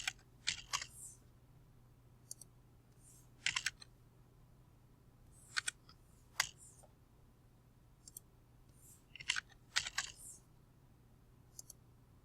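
Quiet typing on a computer keyboard during a drafting session, with scattered bursts of crisp key clicks and single sharp key presses like Enter, spaced irregularly over a low steady hum.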